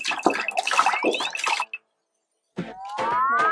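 Warm water is poured over instant yeast for an elephant toothpaste experiment: a close, splashy filling sound whose pitch rises as the container fills, broken by a short silent pause before the pouring resumes.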